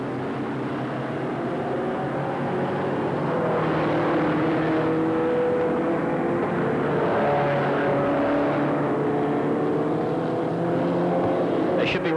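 Compact speed cars at Liverpool City Speedway roar steadily around the track under lights, engines droning and shifting in pitch as they circle, with faint crowd or commentary murmur beneath the continuous loud noise.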